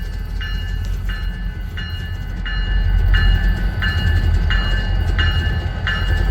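A local freight train led by a BN EMD diesel locomotive rumbles past close by, its low engine drone swelling while evenly spaced clacks repeat steadily along the cars.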